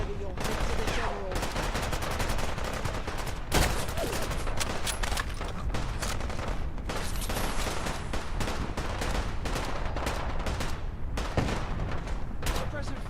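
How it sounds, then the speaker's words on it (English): Dense, continuous gunfire in the video game Fallout London, with rapid automatic bursts and heavy shots layered over each other, loud and close throughout. "Suppressing fire! Quick!"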